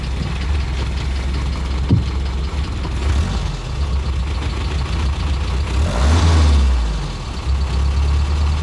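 Peugeot car engine idling close by, then rising in a short rev as the accelerator is pressed around the middle and dropping back to a steady idle.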